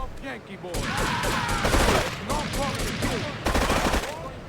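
Rapid bursts of gunfire crackle continuously, loud and dense, with a brief lull before another volley, in the video game Grand Theft Auto III The Definitive Edition.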